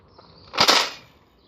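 A Nerf toy gun fires a single sharp, close snap with a short airy burst, standing alone against a quiet background.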